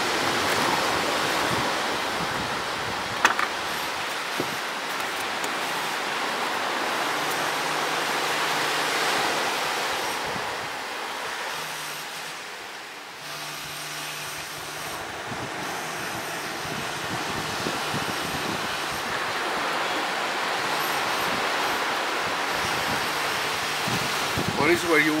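Ocean waves break on a beach at Punta Perua as a steady, broad wash of surf and wind noise, continuous throughout, with faint voices now and then.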